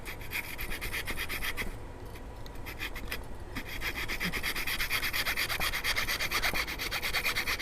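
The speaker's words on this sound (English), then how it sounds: "this coping saw is used as a inside cutout saw, and it allows you to cut" A coping saw cuts across a wooden dovetail, with steady rhythmic rasping back-and-forth strokes, close and continuous, briefly softer near the middle.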